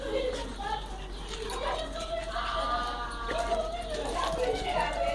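A dog whimpers and gives short high yips in a continuous series, close by, with people talking over it at moderate volume throughout.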